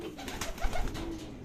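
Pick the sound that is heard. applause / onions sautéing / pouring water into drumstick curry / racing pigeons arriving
racing pigeons arriving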